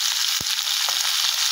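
Mixed vegetables frying in a hot kadai while being stirred, a loud bright sizzle that runs continuously with a couple of short dull knocks from the stirring, close and without speech.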